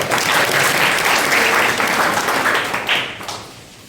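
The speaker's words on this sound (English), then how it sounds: "give a small round of applause" A classroom audience at a teaching demonstration class applauds, a dense burst of clapping that holds steady for a few seconds before tapering off.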